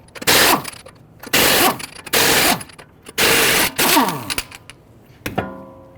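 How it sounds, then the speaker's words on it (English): A 22mm socket loosening and removing lug nuts on a Dodge Charger wheel, several loud bursts of impact-wrench rattling separated by short pauses, ending with light metallic clinks, close and without talk. "Using a 22mm socket, let's loosen and remove our lug nuts."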